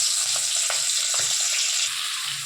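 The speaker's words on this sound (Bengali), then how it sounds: "এই যে চিংড়ি মাছটা নুন হলুদ মা মাখিয়ে নিয়েছে, এবার তেলের মধ্যে এগুলোকে ছেড়ে দেবে।" Shrimp coated in salt and turmeric fry in hot white oil in a wok, with a loud, dense, continuous sizzle and occasional crackles, heard alone and close.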